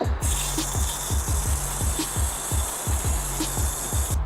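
Water sprays steadily nearby to rinse degreaser off a surface, a continuous hiss broken by a regular rhythmic pulsing.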